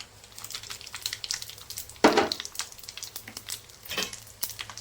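Carom seeds frying in a tempering with lentils, a steady close crackle and sizzle broken by a sharp burst of stirring scrape midway and another near the end.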